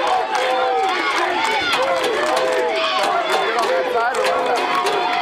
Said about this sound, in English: you can hear this excitement in this crowd